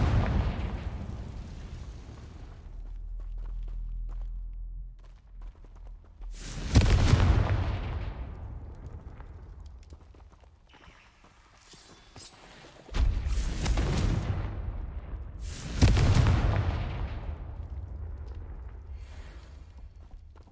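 Confringo blasting spells in Hogwarts Legacy going off as four heavy booming explosions spread out at uneven intervals, each a loud deep blast that rumbles and fades, with quieter stretches and some voice between.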